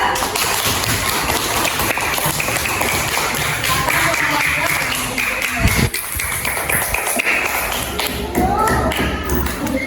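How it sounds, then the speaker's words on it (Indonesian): Primary school pupils in a classroom clap for a group after its presentation, a loose, uneven patter of small hands continuing for several seconds with some shuffling and voices mixed in. "beri tepuk tangan untuk kelompok 2"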